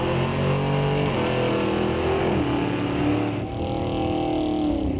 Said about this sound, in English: that was definitely a turbo spooling up under the hood